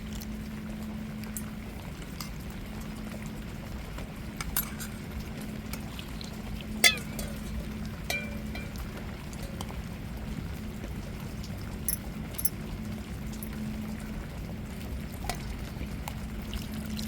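Water is added to dosa batter with onion, chili and salt and mixed by hand, giving a soft continuous wet squelching and stirring with scattered small clicks, a low steady hum underneath.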